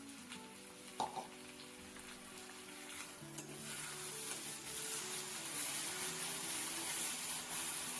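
Onion and tomato puree frying in oil in a home kitchen pan, a steady soft sizzle and crackle that grows slightly denser over time, with a brief clink of a utensil early on and no talking.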